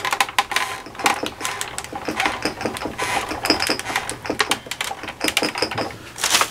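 Glass bottles holding flowers rattling from the vibration of a nearby die-cutting machine, a rapid, uneven clatter of sharp ticks and taps close by, running the whole time without speech.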